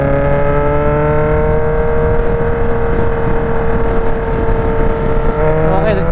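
Kawasaki Z H2 motorcycle engine running loud and close in a steady, sustained tone with a rising whine near the end, no break across the clip.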